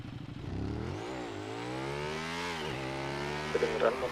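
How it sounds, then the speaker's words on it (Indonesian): A motorcycle engine in the video game GTA V hums and revs, its pitch rising and falling over a few seconds. It stays steady and moderately loud, with brief chatter near the end. "Kedengeran motor lu."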